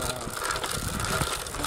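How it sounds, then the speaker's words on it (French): Rapid rattling clicks of pebbles caught by the tire pinging against a Onewheel electric board's plastic mudguard over a constant rolling wheel noise, close and steady. "les cailloux comme plastique, ça fait un peu de bruit"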